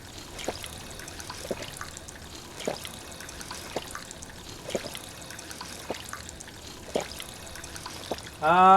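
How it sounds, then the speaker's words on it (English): Steady trickling and pouring water from a running water fountain inside a vault in Fallout 4, a continuous soft wash with faint periodic clicks and a brief louder burst at the end. "Let's get that water fountain going on."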